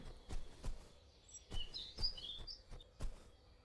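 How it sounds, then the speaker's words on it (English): A small bird chirps softly outdoors, giving a brief cluster of faint high tweets in the middle, with low rhythmic thumps and quiet ambient noise around it. "Another bird."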